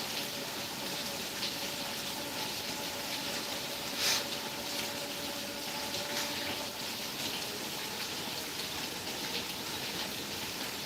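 Heavy rain at Srisailam, heard from indoors by a window, pours in a loud, dense, continuous wash with one brief louder splash partway through and no one speaking.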